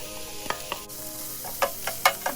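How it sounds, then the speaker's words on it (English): Chopped onions frying in oil with cinnamon and bay leaves over medium heat make a soft continuous sizzle, broken by several sharp spoon taps and stirring scrapes against the pan. "Fry this in oil for half a minute so all the flavor will get into the oil. Then add the chopped onions."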